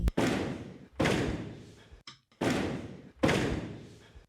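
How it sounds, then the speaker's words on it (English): A door in a film scene bangs shut repeatedly, with four loud, close heavy impacts about a second apart, each trailing off, and a short click between them; no voices. "we hear the second door bang from the next shot before we cut to it"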